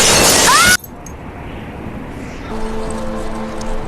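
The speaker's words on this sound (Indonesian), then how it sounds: "memecahkan kaca dan jatuh ke bawah" A glass window is smashed and falls in a dramatic film scene: a loud, bright crash lasting under a second, then an abrupt drop to quiet with a low hum and faint steady tones.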